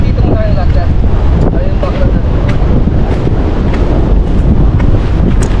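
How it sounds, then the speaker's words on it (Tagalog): Strong wind roars and buffets the microphone constantly at a windmill site in Ilocos Norte, Philippines, a loud rushing blast with surf-like noise mixed in and no pause throughout. "Lakas ang hangin."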